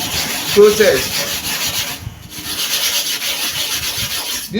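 A blade rubs back and forth across a super hard manual sharpening stone in continuous close, gritty scraping strokes with a brief pause midway.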